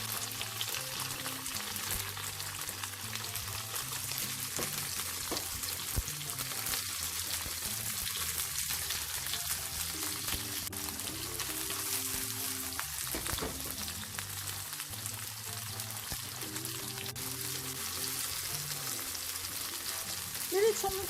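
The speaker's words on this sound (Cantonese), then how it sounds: "呢啲葱白都煎到微黃。" Scallion whites pan-fry in oil for pan-fried tofu with scallion and soy sauce. A continuous close sizzle with scattered spatters runs for about twenty seconds over a low background hum.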